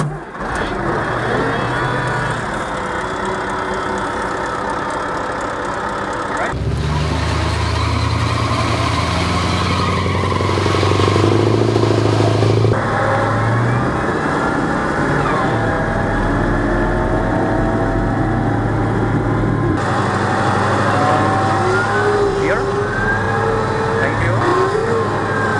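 A CV90 infantry fighting vehicle engine, heard on a Swedish test ground, rumbles at steady loudness for the whole stretch and rises to a heavier low roar around the middle, with no talk over it.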